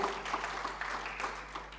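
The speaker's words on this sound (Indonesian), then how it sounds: "Ayo berikan tepuk tangan." A church congregation applauds in a steady, dense wash of clapping from many hands, with a low electrical hum running underneath.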